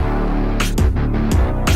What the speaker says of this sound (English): like this distorted guitar sound.